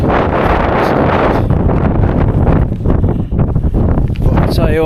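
Strong wind gusts buffet the microphone on an open Pennine Way hillside, a loud continuous roar with surging peaks that fill the whole clip, and a voice speaks briefly underneath.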